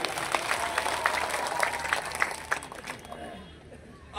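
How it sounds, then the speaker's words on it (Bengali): Audience applause at a BNP union political meeting, a dense crowd of hands clapping steadily with scattered sharper claps, fairly loud, then thinning out and fading toward the end. "যারা আজকের সভাকে সৌন্দর্যমণ্ডিত করেছেন তাদের জন্য একটু হাততালি দেবেন সবাই"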